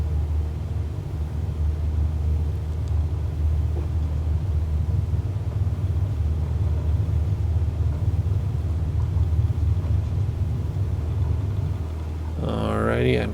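Light aircraft engine at full throttle on a takeoff roll in Microsoft Flight Simulator 2020, a loud, steady, low droning roar that holds unbroken throughout, with a brief voice at the very end.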